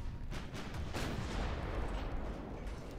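Naval guns firing in a large fleet battle in Ultimate Admiral: Dreadnoughts, the Battle of Tsushima, with primary and secondary batteries booming in dense overlapping salvos, a continuous loud rumbling barrage with no voices.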